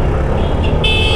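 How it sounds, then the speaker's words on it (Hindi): Car horn honking on a street, a steady blare entering partway through over a continuous low traffic rumble, loud and close. "प्लीज़ मुझे हॉर्न देके डिस्टर्ब ना करें"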